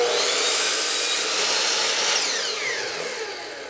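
Power saw cutting a cedar board for a window box planter, a loud continuous whining, buzzing cut that holds steady for nearly four seconds and tapers off slightly at the end, with no talking.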